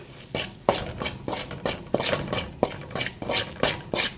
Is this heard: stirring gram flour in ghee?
yes